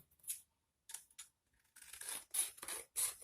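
Scissors cut the bottom part off a paper planner in several short, close snips with brief pauses between them, heard alone.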